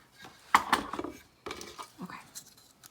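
Handwritten paper notes shuffled by hand for a pick-a-card reading, giving a few close rustling and tapping bursts with brief pauses between, fairly quiet.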